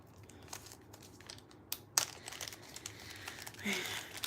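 A plastic bag crinkles and rustles close by in short, irregular bursts, with a few sharper crackles and soft handling noises.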